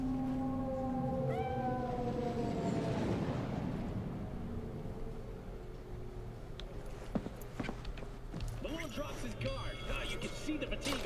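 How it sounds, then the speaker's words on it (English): A cat meows a few times in Cyberpunk 2077, short rising mews early on, then game background noise and other sounds take over. "Kitty cat."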